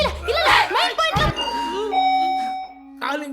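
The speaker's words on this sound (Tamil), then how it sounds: "காலிங் பெல் அடிக்குது பாருங்கம்மா" A doorbell chimes with a clear sustained ding-dong tone after people talk, ringing out alone before a voice briefly returns.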